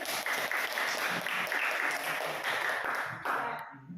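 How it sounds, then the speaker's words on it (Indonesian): A room of people applauds presenters during a teaching performance assessment at Universitas Syiah Kuala. Dense, steady clapping fills the room for several seconds, then thins out and fades toward the end. "Sekali lagi berikan aplaus untuk mereka"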